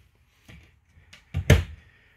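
A solid cabinet door in a 2014 Newmar Dutchstar 4369 motorhome interior is opened: a few faint knocks and a soft creak, then a louder clunk near the end, close by with no talking.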